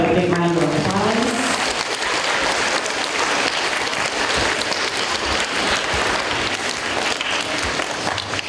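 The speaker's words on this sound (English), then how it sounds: "How about a big round of applause?" A room full of students claps at a middle school community meeting, sustained loud applause lasting several seconds, with a brief voice at the start before the clapping takes over.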